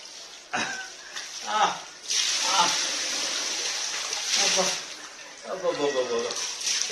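Water pours steadily like a waterfall over someone bathing at home, a loud continuous splashing rush. A person talks over it throughout.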